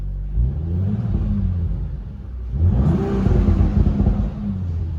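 A warm Audi RS4 Avant engine rumbles steadily, then revs up sharply into a louder, deeper roar that holds for a couple of seconds before easing slightly, close and alone without talk.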